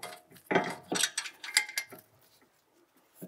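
A lug bolt comes out of the rear brake rotor on a Volkswagen Mk7 Golf R, giving a quiet series of metallic clinks and scraping rattles close by, with a faint tap at the end.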